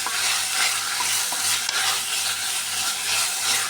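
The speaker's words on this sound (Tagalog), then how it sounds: "Umikos-mikos natin ulit." Ground meat and sliced bitter gourd sizzle steadily in a hot pan while a utensil stirs and scrapes through them in a loose rhythm, close and continuous with no talking.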